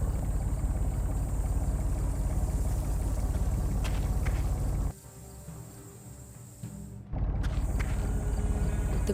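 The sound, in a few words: pump engine running, from the video game Secret Files 3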